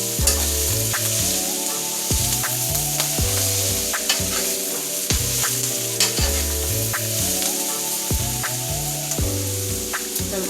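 Collard greens with bacon and onions sizzling in a skillet, a steady loud frying hiss broken by scraping stirs against the pan, with a looping musical backing and no talk.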